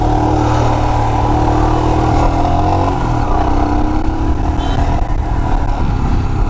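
A Royal Enfield Himalayan BS4 motorcycle engine drones steadily while being ridden, a continuous close rumble with slight throttle swells, and a voice speaks faintly over it.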